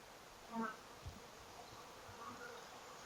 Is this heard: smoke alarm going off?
no